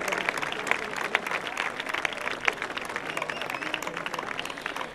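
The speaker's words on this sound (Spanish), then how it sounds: "un aplauso para Jorge Muñoz a la guitarra flamenca." An audience at an outdoor summer band concert applauds a flamenco guitarist steadily, many hands clapping at once in a dense, sustained wash of sound.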